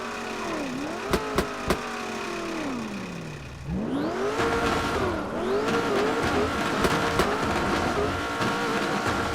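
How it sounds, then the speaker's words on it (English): A loud car engine in GTA 5 revs and accelerates with rising and falling pitch sweeps, tire squeal and skidding mixed in, close and continuous with no talking. "This car is unnecessarily loud"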